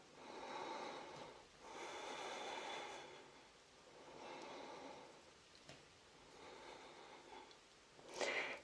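Slow, deep breathing during an abdominal yoga exercise, faint and close, with long airy inhales and exhales in an unhurried rhythm, about four breath cycles and a sharper breath at the end.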